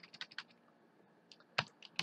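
A handful of quick computer keyboard keystrokes tap out a short name in a quiet room, a brief irregular burst followed by a pause and two sharper final presses.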